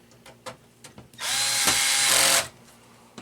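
A power driver sets bolts into a vintage 1990s Compaq Presario computer, its clutch turned down to avoid over-torquing: one loud, close whir lasting about a second, between quiet handling clicks.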